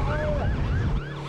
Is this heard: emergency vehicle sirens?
yes